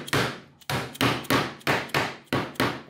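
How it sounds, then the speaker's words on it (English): PVC pipe fittings are hammered together to build a filament rack for a 3D printer. Seven sharp, loud strikes land in a steady rhythm, each ringing briefly before the next, with no talking. "And now I can hammer it in."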